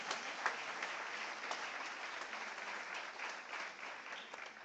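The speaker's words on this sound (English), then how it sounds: "Can we have some claps from the sports community of Somaiya?" A large audience at an awards ceremony claps steadily, a dense even patter of many hands that continues throughout at moderate distance.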